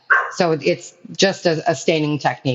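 Someone talks steadily while dogs bark and yip in the background, their sound partly masked under his speech.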